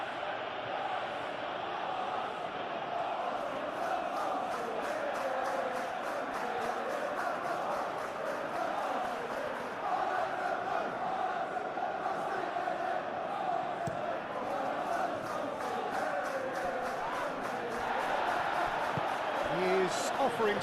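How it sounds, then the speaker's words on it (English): A stadium crowd roars in a continuous wash in the PES 2021 football video game, a steady broad murmur with match commentary talking over it. "Maybe the crowd will stay a little quieter next time."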